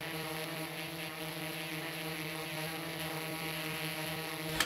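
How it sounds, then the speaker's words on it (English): A drone sound effect in a post-production mix plays as a continuous mechanical whir with a steady tonal hum and propeller-like texture. It stays even and unchanging for several seconds, alone with no talking. "on this track, we have the sound of a drone, and currently it just has a continuous sound"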